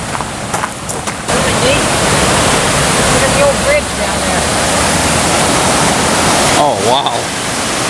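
Greenville Falls, a waterfall in Ohio, roars as a steady, loud broadband rush of falling water close by, with brief muffled sounds briefly breaking through.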